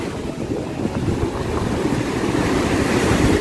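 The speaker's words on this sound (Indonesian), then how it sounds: "Wuhuu, ini ombaknya datang." Ocean waves roll in and break on a busy beach at Dewa Ruci, Jatimalang, Purworejo, a loud continuous surging wash mixed with wind buffeting the microphone.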